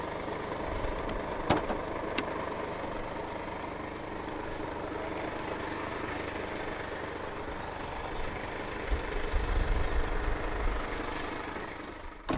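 A steady low diesel engine rumble from a 2016 Mercedes-Benz GLC 220 d 4MATIC idles on, even and continuous, with faint mechanical ticking throughout and a slight swell in the low end near the end.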